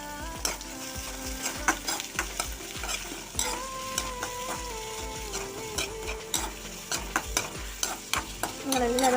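Sliced onions frying in a pan for a kovakka (ivy gourd) dish, a continuous sizzle punctuated by frequent clinks and scrapes of a spoon stirring against the pan, close and moderately loud, with no talking.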